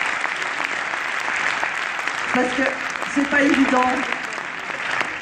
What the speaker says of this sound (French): vous pouvez vraiment les applaudir